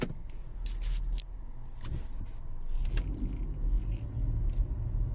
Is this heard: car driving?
yes